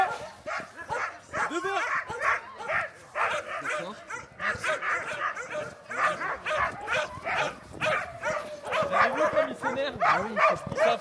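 Sled dogs bark, yip and whimper in an excited, near-continuous chorus nearby, the overlapping calls rising and falling throughout, with people talking among them.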